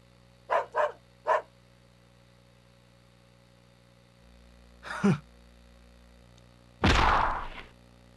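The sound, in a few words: dog barking in video game Jojo's Bizarre Adventure Phantom Blood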